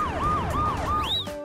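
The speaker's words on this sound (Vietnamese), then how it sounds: "Xe cứu thương." Ambulance siren wailing in repeated rising and falling sweeps, loud and close, alone with no voices, ending on a held higher tone.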